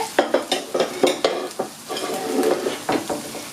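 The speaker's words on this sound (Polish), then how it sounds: "Tak, niech się dalej smaży." Sausage sizzles in a hot pan while a utensil scrapes and stirs in irregular strokes, close and fairly loud.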